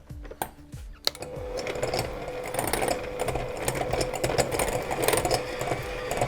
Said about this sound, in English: I'm going to start with some unsalted butter, pop it all in my mixing bowl, and I'm just going to give it a quick mix around